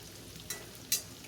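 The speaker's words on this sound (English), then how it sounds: "And my potatoes are cooking." Home-canned potatoes frying in a skillet, a soft steady sizzle held close and quiet, broken by two brief bright crackles, with no one speaking.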